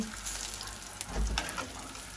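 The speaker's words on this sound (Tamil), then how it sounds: "மீன் பொரிச்ச எண்ணெயிலேயே வந்து நான் கருவாடை போட்டு பொரிக்கிறேன்" Dried fish fries in oil left over from frying fish, giving a steady hissing sizzle with soft crackles and a brief stir or bubbling burst partway through.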